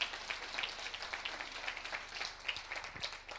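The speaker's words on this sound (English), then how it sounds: "Give him a round of applause there as well." Steady applause from an audience at a transport round table discussion with the Deputy Minister, many hands clapping at a moderate distance for a few seconds without talk.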